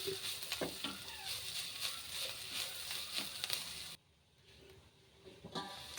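Carrot and bitter gourd pieces fry in a covered pan, giving a steady moderate sizzle with light crackles for about four seconds before it drops to a much quieter hiss with a few faint pops.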